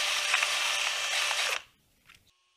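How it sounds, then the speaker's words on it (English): Power drill fitted with sandpaper, cleaning up an old hand plane's knobs: a steady close whirring grind for about one and a half seconds, then it cuts off, followed by a brief faint mechanical click. "And then we can use just sandpaper and the drill"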